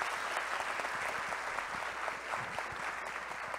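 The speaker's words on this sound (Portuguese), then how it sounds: "Eu queria pedir uma salva de palmas à sociedade e à Veja Saúde." Steady, dense applause from a theater audience at a national gathering of bariatric surgery patients, sustained at an even level throughout with no voices over it.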